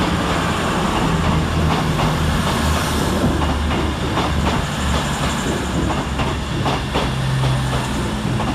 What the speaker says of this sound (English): Next out to depart 6 minutes late is 221101 with the 11:45 Avanti West Coast service from London Euston to Chester.